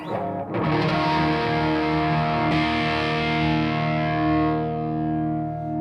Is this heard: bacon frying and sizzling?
no